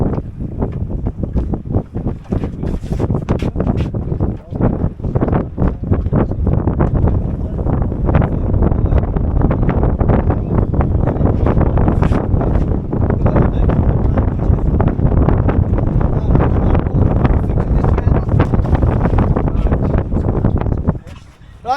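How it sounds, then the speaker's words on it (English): Strong wind blasting across open water on Loch Etive in Scotland, roaring steadily and loud against the microphone with constant buffeting gusts, a boat rocking on the waves beneath. "it's just got a little bit windy here"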